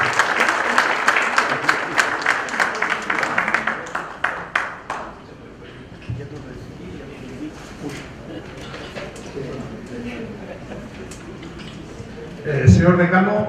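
At a national notarial conference in Cajamarca, a seated audience gives a speaker sustained applause. It fades out after about five seconds, then a voice begins speaking through the room's sound system.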